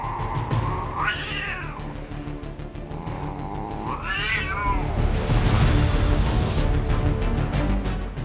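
A cat gives two drawn-out, rising meows, loud and close, the second one wavering, with rough scuffling noise and a rising background din between and after the calls.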